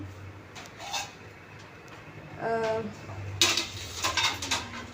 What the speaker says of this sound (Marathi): भांडी लावून घेते कपाटावरती